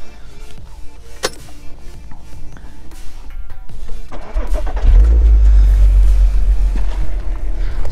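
A car engine cranks and fires up midway, then settles into a loud, deep, rumbling idle close by, after a stretch of quieter rustling and handling noises.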